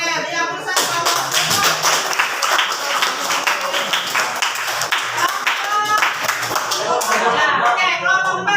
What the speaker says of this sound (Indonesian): beri aplaus kelompok